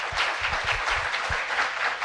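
Studio audience applause on a television talk show, a loud, dense burst of many people clapping at once, continuous and fairly close throughout.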